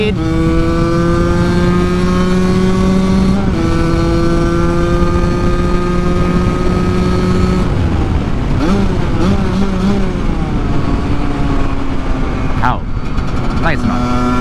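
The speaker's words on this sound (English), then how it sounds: "Let you hear the two-stroke power a bit." A Husqvarna SMS 125 two-stroke motorcycle engine buzzes and revs loudly nearby, its high whining pitch rising and falling through several throttle blips.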